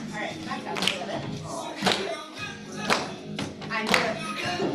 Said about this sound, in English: Now let's clap.